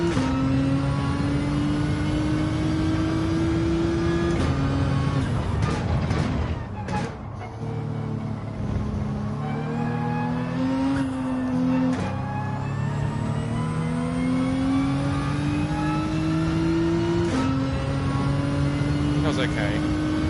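Gr.4/GT4 race car engine in Gran Turismo 7 at Trial Mountain, loud and close, climbing steadily in pitch through the gears with short drops at each shift and brief lifts off the throttle.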